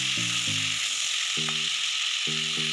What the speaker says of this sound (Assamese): এতিয়া ইয়াত ফুলকবি আৰু আলুখিনি দি দিম আৰু অলপমান টাইম এনেদৰে ভাজি থাকিম